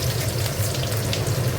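Onions fry in hot oil in a pan for mutton kosha, giving a steady, close, crackling sizzle that runs without a break and with no voices.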